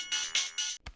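A brief electronic ringtone chirps in quick pulses, fairly faint, followed by a short tone and silence.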